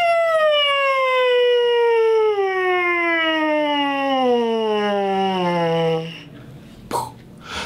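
A buzzing trombone mouthpiece imitates an American siren, one long lip-slurred tone sliding steadily downward in pitch, followed by a short breath and faint noises.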